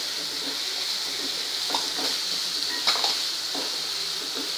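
Chopped onion sautéing with salt in a pan gives a steady bright sizzle, with a few soft scraping stirs rising briefly above the constant hiss.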